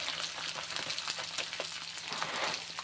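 Peanuts, ivy gourd pieces, chana dal and cumin seeds crackle and sizzle steadily in hot oil in a pan, with a continuous close frying hiss and small pops, no voices.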